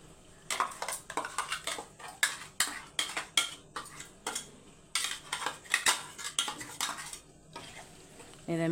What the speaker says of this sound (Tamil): இதை மிக்ஸ் பண்ணி விட்டுருங்க.